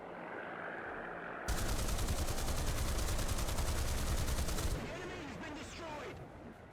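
A 20 mm tank cannon in War Thunder fires a long rapid burst lasting several seconds, dense and loud, with the tank's engine rumbling before and after.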